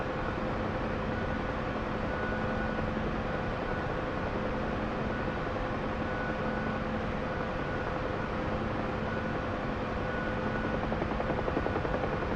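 Helicopter in a DCS or War Thunder flight simulator game, a dense continuous rotor and turbine roar with a steady whine, loud and unbroken throughout, with no talking.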